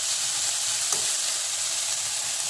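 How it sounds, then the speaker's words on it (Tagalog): A vegetable and egg mixture sautéing over low heat gives a steady, close sizzle throughout, with one brief stir midway and no talk. "gigisa lang po natin. In low fire lang po."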